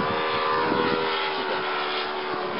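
A Seagull Models Seafire scale model aeroplane on its maiden flight gives a steady electric motor whine and propeller drone, held at moderate distance with no talk.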